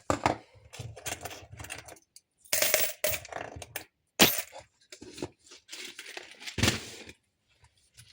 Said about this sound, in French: Ma petite monnaie, je la mets là.